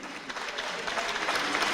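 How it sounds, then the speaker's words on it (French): An audience at an arts gathering claps steadily throughout, a dense, even wash of applause from a room full of people, with no pauses. "Donc un grand merci et applaudissements pour Léonie."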